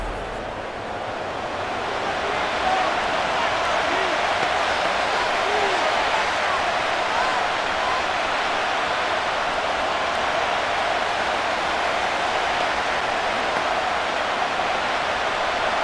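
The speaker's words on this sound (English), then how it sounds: "The crowd making their presence felt." Steady crowd roar fills a stadium in a Madden NFL 25 American football game, Rams versus Jaguars, a dense wash of noise that holds at an even level throughout.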